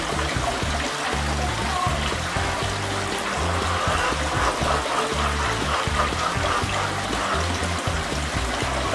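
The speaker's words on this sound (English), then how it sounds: "this is as the water actually comes into the system. It's coming in quite well and it's coming out very well" Water flowing steadily into an aquaponic system, a continuous trickling, splashing stream heard close up with a low rumbling undertone and no break.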